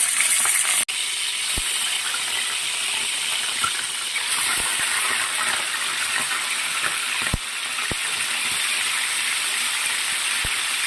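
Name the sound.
chicken frying in hot oil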